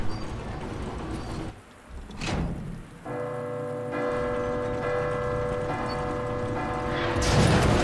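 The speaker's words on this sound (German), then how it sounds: "Jetzt fällt die Glocke runter" Bell crashing down in Resident Evil 2 Remake amid rain, a sharp impact followed by a long ringing metallic bell tone that sustains and slowly fades, with rainfall noise underneath and a final swell of noise.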